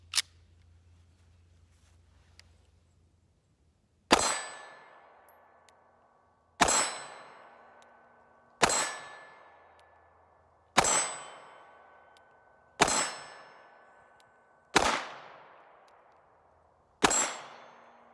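A Taurus G2s pistol fires a seven-round magazine: seven sharp, loud shots at a steady pace of roughly two seconds apart, each with a ringing decay, preceded by a single click.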